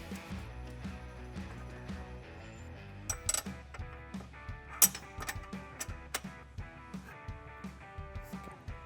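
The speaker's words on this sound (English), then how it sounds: "just go ahead and grab a ratchet with an 18" A ratchet with an 18 mm socket loosening the front sway bar bolts on a Can-Am Maverick R, heard as sharp clicks and clanks, sparse at first then a busier run of metallic ratcheting ticks.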